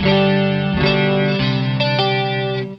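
Sustained guitar chords ring out with a swirling delay effect from a Boss ME-5 multi-effects unit, repeats smearing each note into the next, loud and close, fading slightly at the end.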